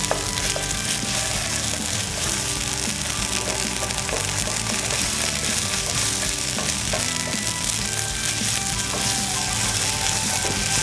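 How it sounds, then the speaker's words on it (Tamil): Ginger garlic paste frying with onions in a pan: a steady, dense sizzle throughout, with faint stirring scrapes, close and continuous, no talking. "இஞ்சி பூண்டை வெங்காயத்தோடு சேர்த்து வதக்கிடுவோம்."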